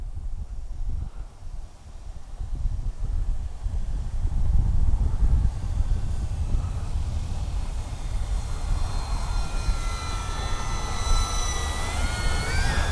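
An FMS PC-21 Pilatus RC model plane makes a low pass along the runway, a steady loud whining roar with a rising pitch toward the end as it passes by outdoors.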